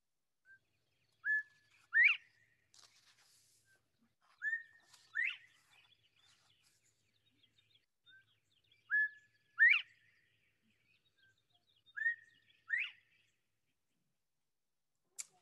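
A common southwest Ohio songbird repeats a short whistled phrase about four times at regular intervals, each a rising note followed by a sharp higher chirp, clear and alone against a silent background.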